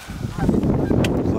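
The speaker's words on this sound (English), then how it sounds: "A lot of geese around." Geese honk in a short burst of a few calls over wind and field noise during a goose hunt near Clair, Saskatchewan.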